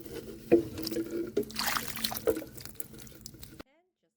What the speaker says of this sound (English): I can water the plants now